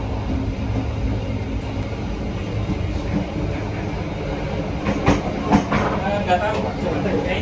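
Inside the Gumarang passenger train as it runs, a continuous rumbling roll with a few sharp rattles and clicks near the end, while a person speaks over it.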